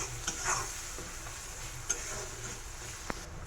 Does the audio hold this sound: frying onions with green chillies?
yes